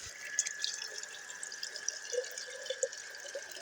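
Clean, soft well water being poured, a steady light trickle with small drips and splashes, faint and alone without talk.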